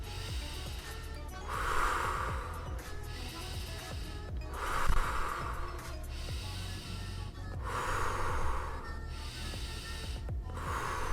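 Slow, deep breathing exercise during a children's karate lesson, with long rhythmic inhale and exhale cycles roughly every two to three seconds, close and fairly soft, no speech.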